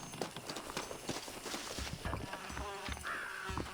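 Horse hooves clip-clopping in the Red Dead Redemption Western video game, a brisk uneven trot of close, moderately loud hoofbeats with no talk over them.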